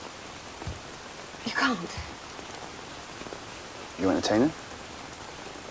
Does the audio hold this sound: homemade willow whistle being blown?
no